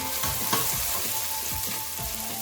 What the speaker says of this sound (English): You bring in your leeks, then I'll allow a little bit with the spring onions for garnishing towards the end. You stir it.